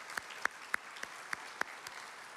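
At an East Texas education event, a handful of scattered handclaps from a small audience honour the sponsors, about seven separate claps spaced out over a quiet room rather than a full round of applause.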